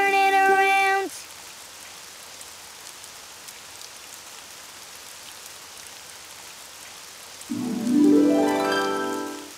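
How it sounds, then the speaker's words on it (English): Steady rain patters softly throughout, framed by brief tonal musical notes at the start and a rising synthesized sweep near the end. "Oh, it's raining outside."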